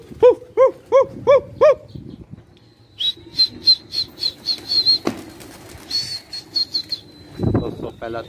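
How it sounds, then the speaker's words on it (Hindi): Pigeons released over a rooftop in Karachi flap their wings in quick repeated bursts, mixed with chirping calls and a thin high whistle, with a voice briefly audible near the end. "कबूतर घूम रहे हैं छत पे।"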